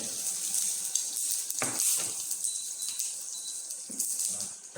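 Pounded ingredients with their skins frying in oil for grilled fish, a soft continuous hiss and sizzle with occasional faint pops and clinks, fairly quiet and close.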